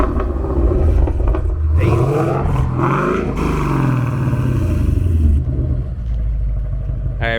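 A Ford Coyote V8 fitted with Kooks headers rumbles loud and close, with its revs climbing in a rising sweep, peaking, then falling back to a throaty idle; a brief voice calls out near the start.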